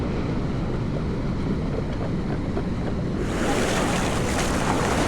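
Ocean waves washing up a beach during metal detecting, a steady broadband wash that swells louder partway through, with wind buffeting the microphone and no talk.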